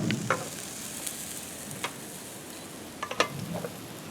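A utensil stirs chopped scallions and fresh cilantro together in a bowl, giving soft scraping and a few scattered light clinks and taps, quiet and close, with no voices.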